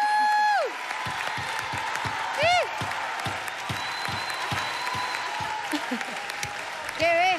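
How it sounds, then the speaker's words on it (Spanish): A live audience applauds at a televised talent show after a football freestyle performance, with steady clapping, occasional cheers, and voices speaking over it. "Gente, no para de aplaudir."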